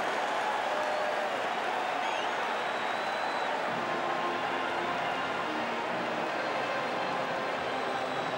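An 80,000-strong stadium crowd at an NFL game between the Chiefs and Patriots roars in a steady, full-throated wash of noise with no break, the home team up by three late in the period.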